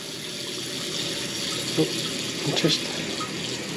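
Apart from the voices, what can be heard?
water running from a tap to wash duck feathers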